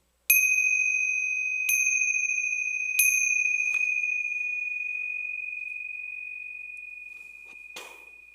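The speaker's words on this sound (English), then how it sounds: "Listening to the sound of the bell, the beautiful sound that carries energy." A meditation bell is struck three times in quick succession. Each clear, pure ring layers over the last, and the tone hangs and slowly fades in a quiet room.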